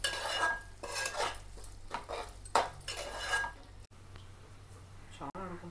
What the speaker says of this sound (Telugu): ఇప్పుడు తర్వాత అదే పొడే జీలకర్ర పౌడర్, కారం, ధనియా పౌడర్, జీరా పౌడర్ వేసుకొని బాగా కలపాలి.